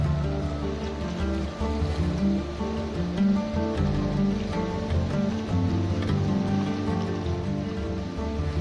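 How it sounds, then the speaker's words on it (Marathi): A river in the Kullu valley rushes downstream with a steady, dense roar of flowing water heard close and continuous, and no voices. "हा नदीचा प्रवाह ज्या दिशेनं खाली येत आहे"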